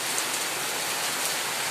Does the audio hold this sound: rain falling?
yes